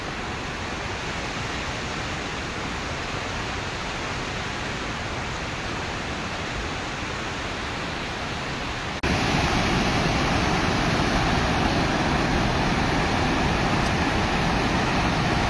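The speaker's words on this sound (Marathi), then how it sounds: "कोणत्या कॅनलमधून नाही, आकाशातून जणू पाणी खाली पडत आहे" Water thunders over the overflowing Itiadoh dam near Gothangaon, Gondia, in Maharashtra in 2025. A dense, unbroken roar holds steady throughout and jumps louder partway through.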